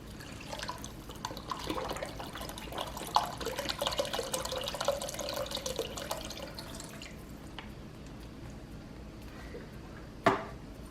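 Broth poured into a pot of Hatch green chili stew, a steady liquid splash and trickle for about seven seconds that tapers off, followed by a brief clink near the end.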